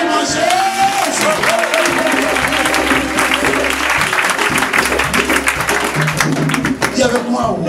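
A church congregation bursts into sustained applause mixed with cheering and whoops, loud and dense throughout, with voices calling out over the clapping and a low hum underneath.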